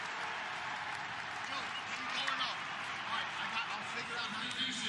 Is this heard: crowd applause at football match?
yes